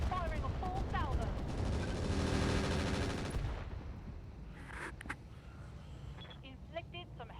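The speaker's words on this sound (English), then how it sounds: "Firing a full salvo." A full weapon salvo from a mech in the video game RogueTech, a BattleTech mod: a dense, loud roar of rapid gunfire for about three seconds, then a fading rumble with a few scattered impacts.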